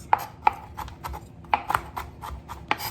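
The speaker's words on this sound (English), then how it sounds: "I'm going to go ahead and just roughly chop up my peanuts" A knife roughly chops peanuts on a cutting board for shrimp pad thai, sounding as a series of sharp, close, irregular knocks with light crunching between them.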